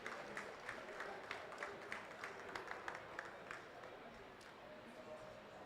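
A conference audience at COP27 in Sharm el-Sheikh applauds as speakers leave the stage, steady clapping heard faintly at a distance with rhythmic hand claps running the whole time.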